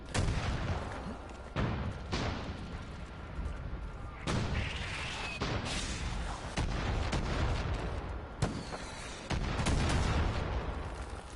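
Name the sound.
gunfire and explosions from the Far Cry 5 video game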